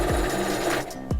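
Sewing machine back stitching a fabric face mask, a fast close-up mechanical chatter of the needle running continuously for about a second.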